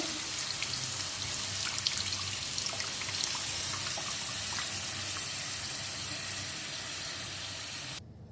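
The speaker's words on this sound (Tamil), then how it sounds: "இப்போ வந்து நம்ம புளி தண்ணியை ஆட் பண்ணிக்கலாம்." Tamarind water pours into oil-fried spices for horse gram rasam, giving a steady hissing rush of liquid with a light sizzle. It runs continuously for about eight seconds and stops abruptly at the end, with no talk.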